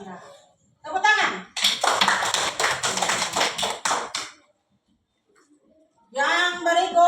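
Children in a classroom clap their hands together in a lively burst lasting about three seconds, with a teacher's and children's voices before and after.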